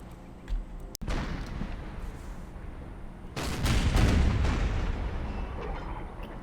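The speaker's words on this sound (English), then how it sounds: "The artillery fire has been," Artillery bombardment of an Ottoman fort in the strategy game Empire: Total War, heard as a sharp crack followed by rumbling, overlapping distant cannon fire that swells into a heavier barrage.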